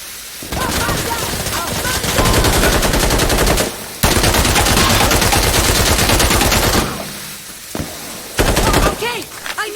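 Sustained automatic weapon fire in the shooter game Insurgency: Sandstorm, long loud bursts of rapid shots separated by brief pauses, with players talking over the gunfire.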